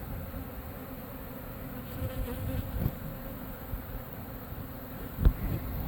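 Honeybees hum in a swarm during a hive removal from a mobile home in Lakeland, Florida, a steady close drone with a few louder bumps and handling knocks.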